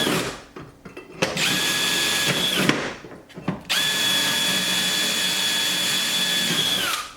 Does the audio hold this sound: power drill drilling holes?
yes